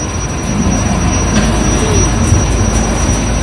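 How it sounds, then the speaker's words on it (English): A train rolls past at steady, loud volume, with a dense rumble and faint high wheel squeal, in Taiwan. "This is a train."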